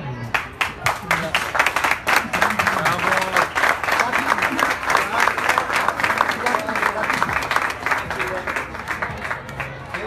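An audience claps for a third-place finisher at a cooking contest final, many hands clapping in a brisk, rhythmic patter for several seconds while a voice talks over it.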